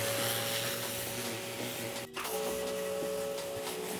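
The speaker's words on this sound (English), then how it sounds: "and then jet wash it down" Jet washer spraying down the walls of an emptied swimming pool, a steady loud hiss with a constant motor whine that drops out briefly midway and then resumes.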